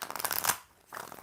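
Tarot cards being shuffled, a short riffling burst of papery flutter that pauses briefly and then resumes, close and fairly soft, with no voices.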